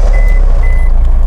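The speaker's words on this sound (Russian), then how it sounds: "Два писка таких, пип-пип." Two short, thin electronic beeps from the key fob at the start-stop button of a VAZ 2104, heard over a loud, steady low engine rumble inside the car.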